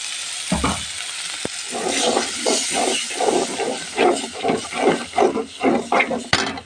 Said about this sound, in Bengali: সুন্দর করে কষিয়ে নিচ্ছি মশলাটা